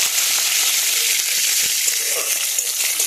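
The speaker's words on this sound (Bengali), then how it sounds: "এগুলো একটু ভেজে নেব।" Black cumin seeds, green chillies and bay leaf fry in hot oil, giving a steady, continuous sizzle with a faint crackle throughout and no talk.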